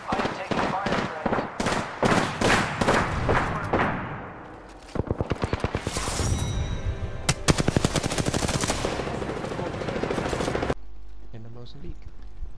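Automatic weapon fire in the battle royale shooter Apex Legends: rapid loud bursts of shots, a pause, then dense sustained firing with a voice speaking over parts of it before it cuts off near the end.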